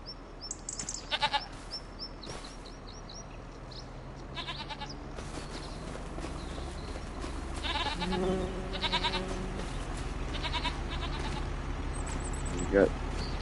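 Goats bleat inside a barn in the video game Farming Simulator 25, several wavering calls scattered over a steady low game ambience, with someone talking throughout.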